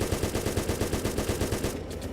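A DT 7.62 machine gun fires from the front gunner seat of a T-34 tank in a military game. Rapid, evenly spaced shots form a steady rattling burst that stops near the end.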